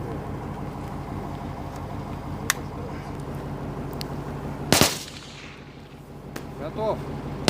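Sharp gunshots crack at a military firing range amid low outdoor rumble. Several scattered reports are heard, one much louder and closer than the rest, with voices faint in the background.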